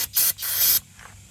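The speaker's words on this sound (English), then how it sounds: "just clean them off with a little brake cleaner" Brake cleaner sprayed onto freshly tightened bolts under a 2022 Hyundai Santa Cruz 2.5T during a transfer case and differential fluid change: a short hiss, a brief pause, then a longer loud hiss that cuts off, alone and close.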